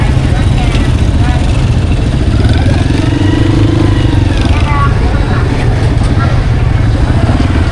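Motorbike engines idle and putter at low speed through a crowded wet market in Sóc Trăng, Vietnam, a steady close rumble with clattering and busy background voices throughout.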